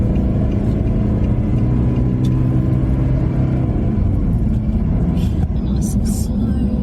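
Someone else's car pulling away slowly, its engine rumbling loud and close with a steady drone and slight revving, with a voice talking over it.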